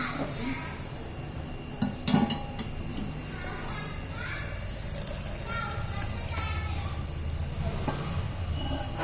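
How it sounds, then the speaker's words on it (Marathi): Hot water is poured into spicy Agri-style mutton gravy sizzling in a pot, giving a steady frying hiss with a few sharp clinks of utensils, while someone talks over it. "वरती पाणी गरम करायला ठेवलेलं आहे आता हेच पाणी आपल्याला आतमध्ये ओतायचं आहे रश्यामध्ये"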